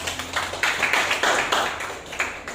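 A classroom of students claps their hands together nearby, a run of fairly even, sharp claps with a few louder bursts and no talking over them.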